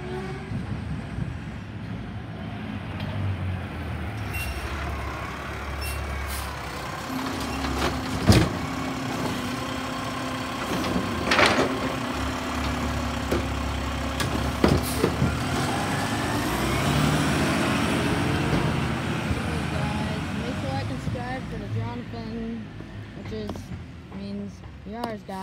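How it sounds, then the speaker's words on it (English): A garbage truck arrives with a steady diesel engine rumble and mechanical clanks, squeals and hisses over a continuous drone, with a person talking over it. "Here comes the truck."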